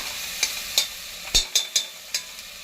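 Spices and a chilli-garlic chutney for pav bhaji sautéing in a pan, with about seven sharp spoon clinks and scrapes spaced irregularly over a soft sizzle, close and without talk.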